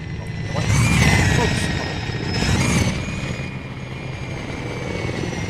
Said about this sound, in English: This guy up here, okay, is a black shark. Ka-50, black shark.